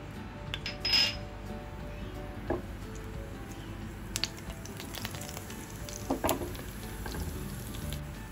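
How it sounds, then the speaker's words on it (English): Cumin seeds spluttering in hot oil in a pan, a soft continuous sizzle with a few sharp pops and light clinks from a utensil, quiet and close, no voices. "Heat oil in a pan, add cumin seed, allow to splutter"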